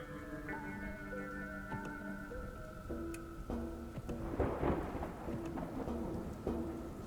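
Steady rain pours in the Dustland Delivery video game, with a long rolling thunder rumble building to a loud crack midway and continuing to grumble, layered over a low musical drone.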